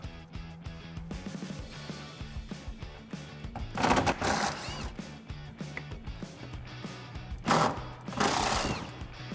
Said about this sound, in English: So grab your 8 millimeter socket and get those off.